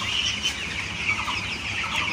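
Young broiler chicks, about eleven days old, on a poultry farm keep up a continuous, close chorus of high peeping and clucking.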